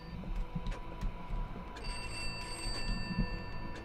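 A telephone in the Pineview Drive game rings in repeated electronic bursts with a steady tonal whine beneath, over a low room hum and thumping footsteps, with no speech.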